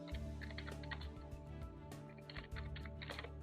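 Rapid keystrokes on a computer keyboard, typing out a project activity title, run as a steady clatter of clicks over a constant low electrical hum, fairly close and moderately quiet.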